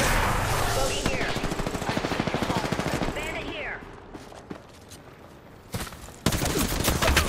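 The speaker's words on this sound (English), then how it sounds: "Listen up, I'm getting shot at." Rapid video game gunfire sounds in dense automatic bursts, loud and close, then thins into scattered shots near the end, with voices talking underneath.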